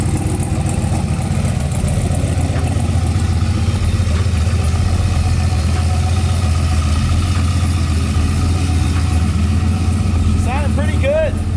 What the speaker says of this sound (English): you're ready to hear this car running, so let's get this thing on the dyno